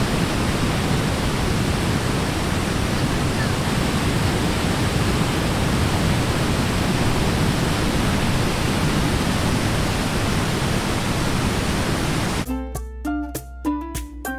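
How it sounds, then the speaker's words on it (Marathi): A small waterfall fed by discharge from the Mullaperiyar dam near Thekkady, Kerala, roars as a steady, loud, broad rush of strong water flow filling the scene, ending abruptly as music takes over in the final two seconds. "पाण्याच्या जबरदस्त फ्लोचा आवाज सोडून तशी ही जागा शांत आहे."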